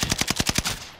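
A quick burst of rapid automatic gunfire in Call of Duty: Modern Warfare, about seven sharp shots in under a second.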